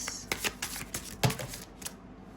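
A deck of tarot cards is shuffled close by, giving a quick run of soft riffling clicks and flicks over about two seconds, with no talking.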